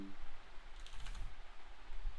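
Quick bursts of typing on a computer keyboard, close and fairly soft, clustered keystrokes with short pauses between them.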